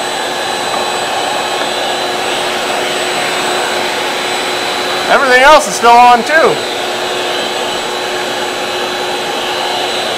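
A powerful 5-horsepower vacuum cleaner runs on a portable solar power station with a loud, steady whine and hum, and a person speaks briefly over the noise midway through.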